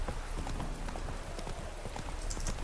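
Hooves clip-clop steadily on the ground as a horse moves along in the game Witcher 3 Hearts of Stone, fairly faint, with a low ambient background.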